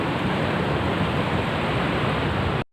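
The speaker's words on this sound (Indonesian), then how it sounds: "ini di sini ombaknya lumayan kenceng" Strong ocean surf on the west coast at Krui roars as a dense, steady wash of broadband noise, loud and close, cutting off abruptly at the end.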